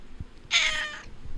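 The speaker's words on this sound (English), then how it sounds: "That's my cat. That's my emotionally disturbed cat." A single clear meow from a nearby indoor cat, loud and drawn out for about half a second against a quiet room.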